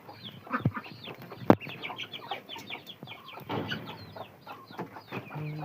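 Chickens cluck and call in a farmyard where a grey hen has gone missing, with irregular bursts of near clucking, one sharp loud squawk, and softer fowl calls continuing throughout; no talk is heard.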